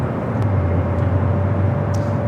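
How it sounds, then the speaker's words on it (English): A Qantas A380 Superjumbo is towed across the apron at Los Angeles airport toward the remote gates, a loud, continuous low rumble and engine drone that stays steady and close. "the Qantas A380 Super that was flight 11 coming from Sydney is being towed over to the remote gates"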